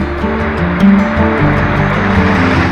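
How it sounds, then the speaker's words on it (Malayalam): Water of the Aruvikuzhy waterfall in Pathanamthitta crashes loudly and steadily onto a huge rock, pounding into a deep rock pool with a dense, unbroken roar and no voices. "കൂറ്റൻ പാറയിലേക്ക് ഇരച്ചു പതിക്കുന്ന വെള്ളച്ചാട്ടം പാറയിൽ വലിയ കുഴിയുണ്ടാക്കിയിരിക്കുന്നു"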